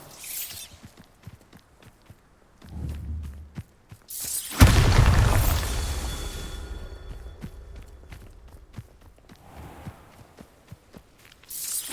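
A Bombarda blast spell in Hogwarts Legacy goes off as one heavy, booming explosion with a long rumbling tail, set among faint footsteps and a few quieter thuds before and after.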